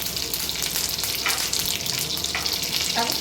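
Curry leaves and white sesame seeds sizzle in hot oil as a tempering for a drumstick curry: a loud, continuous frying hiss with a few stirring scrapes, up close and without talk.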